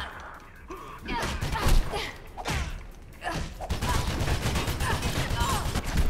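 Light machine gun fire in the video game Mirror's Edge, bursts of loud gunfire with thuds and crashes layered through a dense, continuous game mix, with no speech over it.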